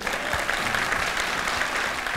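A live studio audience at a Turkish open-mic comedy show claps steadily after a football team is named, with dense, continuous applause that is loud and fills the space with no pauses.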